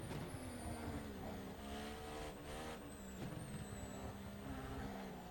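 Max Verstappen's Red Bull race car in rFactor 2 at Zandvoort, engine wailing and shifting pitch through gear changes with brief tire squeal, steady and close but quiet overall, with no talk.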